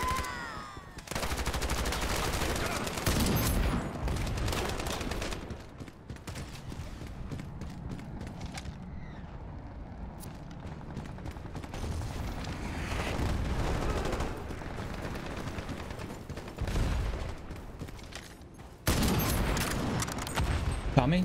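Rapid bursts of automatic fire from a Tommy gun in the shooter game Ironsight, loud and close, broken by short pauses and a sudden stop.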